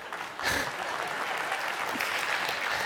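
Lecture audience bursting into applause after a joke, dense steady clapping that starts sharply about half a second in and holds loud to the end, with faint voices mixed in.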